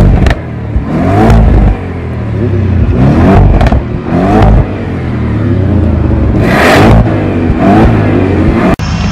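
A 750 HP Audi S8 plus revs hard through its dual exhaust, throwing out several loud, close throttle blips and surges over a deep, rumbling idle.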